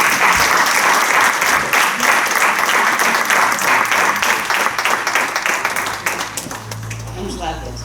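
Loud audience applause at a church gathering, dense clapping that fills most of the stretch and then thins and fades near the end as a voice begins under it.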